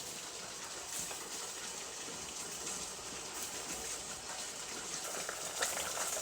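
Water boils in a pot ready for blanching peaches, a steady, quiet bubbling and rushing texture heard alone with no talk.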